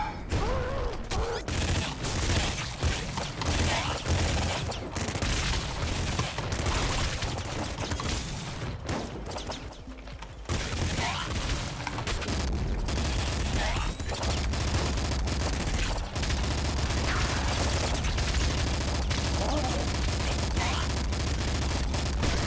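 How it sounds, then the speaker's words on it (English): Dense, loud gunfire in the top-down shooter Nuclear Throne, a continuous barrage of rapid shots with booming impacts, with game music running underneath throughout. "Dude, this gun sounds badass. You hear that?"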